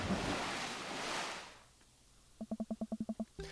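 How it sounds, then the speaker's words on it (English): A log flume ride in Dream Daddy sends up a big rush of splashing water that washes loudly and then fades out, followed by a quick run of evenly spaced soft tones. "A wall of water rains down on us."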